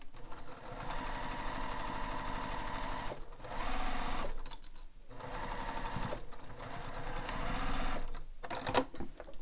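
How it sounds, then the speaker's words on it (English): Sewing machine stitching a bag seam for an Oriana bowler bag, running steadily and close with a whirring mechanical drone and rapid needle rhythm, pausing briefly twice before resuming. "Make sure you're using your stitch length that you use for stitching your bag."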